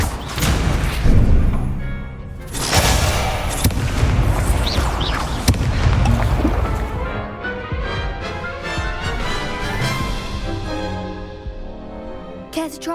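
Incendio fire spells cast during a Hogwarts Legacy duel, heavy booming bursts and thuds in quick succession over loud game music, tapering off toward the end.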